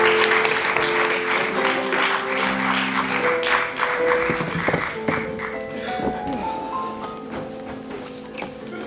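Audience at an improv theatre festival in Paris claps for a performer, a sustained crowd of hands applauding beneath tonal music and some voices, thinning toward the end.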